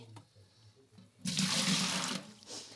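Two litres of water pour from a cup into a bowl for Easter paska bread dough in a village kitchen in Cherkasy region, Ukraine: a loud, steady splashing gush of about one second after quiet background clatter.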